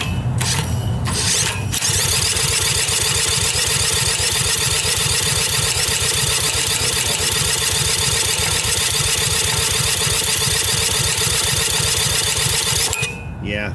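An old Lawnboy commercial lawnmower with a Briggs engine runs rough and uneven, blowing back through the carburetor, loud and close for about eleven seconds after a brief start.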